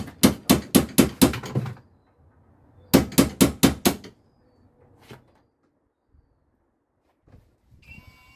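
Rapid metal hammer strikes in two bursts of about six blows each, loud and close, knocking out a press stud on an MG convertible hood, followed by a few scattered quieter knocks and clatter.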